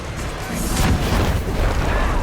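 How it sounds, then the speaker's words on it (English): A poison bomb bursts in Middle-earth: Shadow of War, giving a dense, rumbling boom that fills the whole short moment with no talking. "Eventually the Overlord gets bored and hits me with a poison bomb, releasing me."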